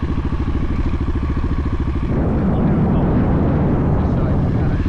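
A motorcycle engine holds a steady, loud drone through a coaster wheelie, its pulsing rhythm smoothing into a rougher, louder roar partway through as the revs change.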